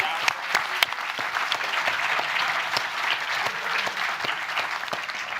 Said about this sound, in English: And once again, big applause to Reidar.